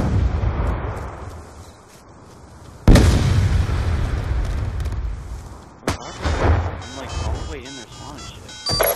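A grenade blast in Call of Duty Black Ops 2 arrives as a loud booming burst that rumbles and fades, followed by another sharp explosion and scattered in-game gunfire and effects, with players talking over it.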